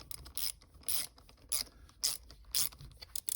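A ratchet fitted with a longer drive turning a shifter bolt during a 2019 Corvette C7 Z06 shifter install, close, rapid clicking bursts that come in repeated strokes about every half second.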